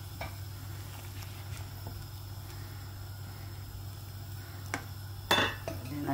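A utensil stirs misua soup with chicken balls in a pot, giving faint scrapes and a few sharp metallic clinks against a quiet low hum, with one louder clank near the end.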